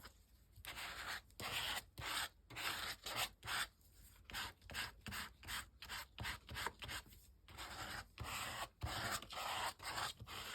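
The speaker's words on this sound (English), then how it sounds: "scrape some paint" Paint being scraped off a junk journal page, a repeated close rasping rub in quick back-and-forth strokes with brief gaps, steady throughout and without voices.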